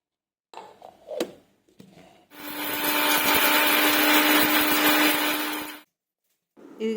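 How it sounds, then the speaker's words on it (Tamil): Mixer grinder blitzing garlic, cumin, star anise, kalpasi, pepper, poppy seeds, bay leaf and green chilli, a loud steady whirring roar for about three and a half seconds, preceded by faint clinks and handling knocks, then stopping abruptly. "இதோட ஒரு பச்சை மிளகாயும் போட்டு மிக்சியில் அரைச்சிக்கலாங்க"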